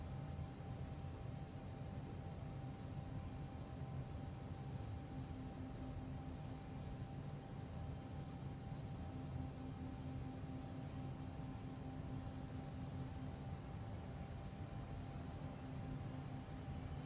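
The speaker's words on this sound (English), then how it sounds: "We'll get on the runway here and get off into the air." An ERJ-145LR jet in the X-Plane 11 flight simulator hums with a steady, faint, broadband engine roar and a faint whine as it rolls onto the runway for takeoff, with no talking.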